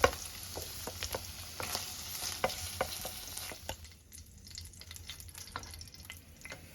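Paneer pieces fry lightly in hot oil in a pan, a steady close sizzle broken by scattered sharp pops and spatters that thin out toward the end, no voices.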